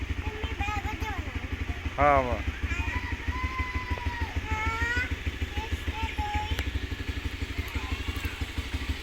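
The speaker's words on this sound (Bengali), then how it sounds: "এই বাইক স্টার্ট দিয়ে দিছি।" A motorcycle engine idles steadily after being started, a close, low, even putter running throughout under nearby speech, with a short louder burst partway through.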